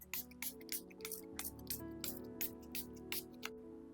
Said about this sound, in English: I'm just going to spray all over my face.